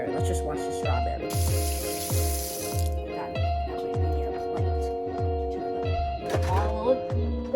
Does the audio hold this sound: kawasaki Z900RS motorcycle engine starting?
no